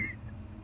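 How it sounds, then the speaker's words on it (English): A cricket chirps steadily and close by, a thin high trill running through the whole moment against a low room hum, with no voices over it. "Guest starring this cricket."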